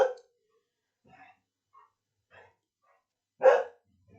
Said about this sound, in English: my dog decided to run through